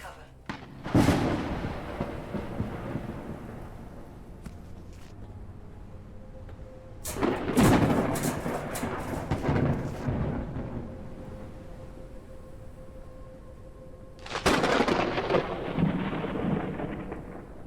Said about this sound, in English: Lightning strikes the highest targets. Lower altitude or seek cover.